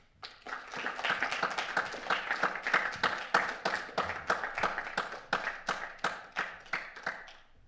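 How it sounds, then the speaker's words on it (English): A small group claps steadily after a conference presentation, the individual hand claps distinct and evenly paced, fairly quiet and close, with no voices over it. "now the warm applause is yours"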